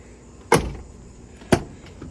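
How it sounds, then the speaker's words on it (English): Chevy Express van door closes twice, each a sharp solid thump about a second apart, with a softer knock at the end over a quiet background. "Let's give the door a close."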